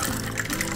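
Drinks poured into glasses for a holiday cocktail garnished with citrus, a steady close liquid splash and trickle running through the whole short moment with no talk.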